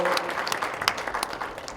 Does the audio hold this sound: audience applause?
yes